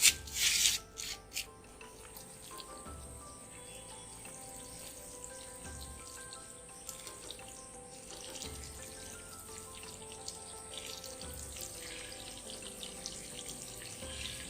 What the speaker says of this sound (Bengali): আমি এখন জল দিয়ে দেবো